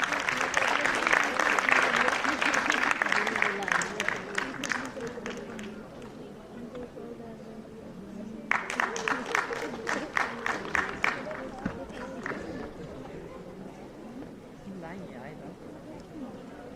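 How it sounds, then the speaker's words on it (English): Audience applause at a health sciences international conference, loud sustained clapping that fades after several seconds, then a second burst of clapping with distinct individual claps tapering off. "Please give a huge round of applause for all the members on the stage."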